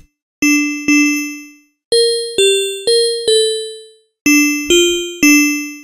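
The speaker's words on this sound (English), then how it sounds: "And so we have the waveform, the wavetable, that's like a bell." A chiming, bell-like wavetable synth lead from a HALion Sonic SE FLUX synth plays a short melodic phrase, notes struck in small groups with gaps between, each ringing out and decaying cleanly.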